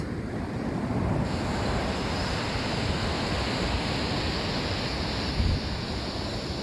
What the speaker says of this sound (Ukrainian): і море, і хвилі, і барашки, і чайки